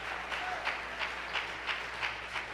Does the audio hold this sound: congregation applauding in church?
yes